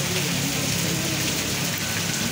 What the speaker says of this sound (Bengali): বৃষ্টিটা আরো জোরে নামছে, মানে আরো আগে কি ছিল তার থেকে আরো বেশি জোরে নামলো